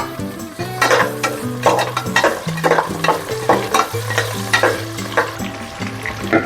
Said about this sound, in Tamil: இப்போ வந்து ஒரு கைப்பிடி சின்ன வெங்காயத்தை நம்ம போட்டு வதக்கலாம்.